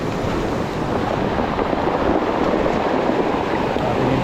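Strong ocean waves roll onto the shore on a rainy day, making a steady, loud, roaring wash of surf mixed with wind rumble against the microphone. No one speaks.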